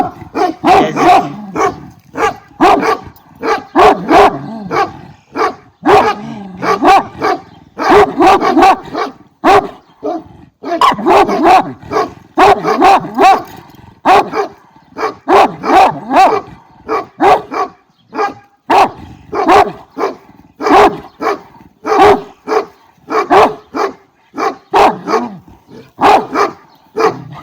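A Karabash (Turkish shepherd) dog barks repeatedly and loudly in rapid bursts, close by, with short pauses between volleys and occasional yips.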